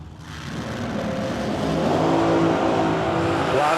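A supercharged drag race car with a blower accelerates hard at a drag strip, a loud, rising mechanical roar with a whining tone that climbs steadily in pitch and builds in volume.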